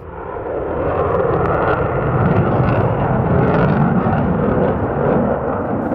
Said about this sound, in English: this is the GRIPEN D aircraft